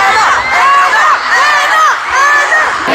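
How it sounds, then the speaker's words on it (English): A dense crowd of fans shouts and cheers at a busy weekend meet-up with influencer Anna Paul, police working to hold them back; loud, continuous massed voices with rising and falling whoops close by. "This is the crowds and the police trying to control them."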